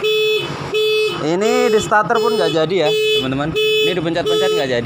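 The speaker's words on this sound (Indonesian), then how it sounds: "pencet seperti ini alarmnya akan hidup ya." A motorcycle anti-theft alarm blares close by, cycling through sweeping siren wails and repeated beeping tones, while someone speaks over it.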